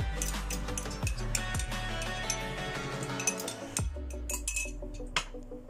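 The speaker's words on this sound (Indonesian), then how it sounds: "aku mau aduk dulu" A spoon clinks against a bowl while stirring yeast for eggless toast bread dough, a run of bright, close metallic taps and scrapes with a few sharper knocks, heard alone.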